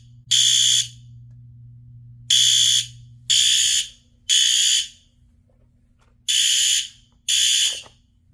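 System Sensor SpectrAlert fire alarm horns sounding together in loud, harsh, buzzing blasts, six bursts in an uneven pattern separated by pauses with a low electrical hum beneath.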